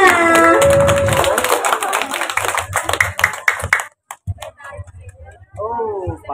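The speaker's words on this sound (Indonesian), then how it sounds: "Ya, tepuk tangannya." Audience clapping at a sinden singing event, a quick burst of hand claps mixed with talk and background music that thins out into scattered claps and voices.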